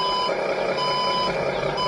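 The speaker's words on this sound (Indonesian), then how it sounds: "kalau mundur itu diusahakan yang bunyi nit-nitnya dulu itu mati dulu 1 kali, baru bisa dipundurin." Remote-control Hino 500 model truck in reverse, its backup alarm ringing as a steady, loud electronic tone close by, with no voices over it.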